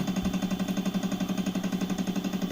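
A milling machine fitted with a stepper motor mount runs steadily nearby, giving a loud, even mechanical hum with a fast regular pulsing throb and no talk.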